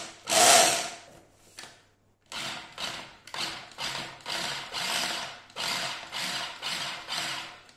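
A blender pulses zucchini for a gratin in a series of short, evenly spaced whirring bursts with brief pauses between them, after one longer opening burst, close and clear.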